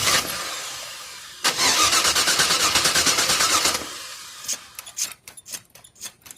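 A 1994 Chevrolet K1500 truck engine with a gravity-fed fuel supply cranks with a rapid, steady chugging for a couple of seconds, then sputters and catches in uneven bursts, loud and close.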